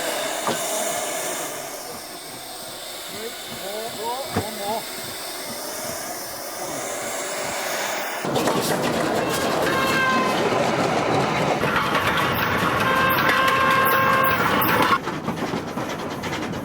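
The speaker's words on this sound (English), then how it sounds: "The Stephensons had invented the first modern steam engine, but it was still just a prototype" Stephenson's Rocket steam locomotive running, with a continuous rumbling, clattering rail sound that shifts midway into a louder, busier stretch of mechanical rattle and hiss, heard close and alone for about seventeen seconds.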